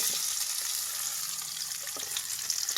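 Masala sizzles in hot oil for Maggi noodles, a close, steady bright crackle of frying with small pops and no voices.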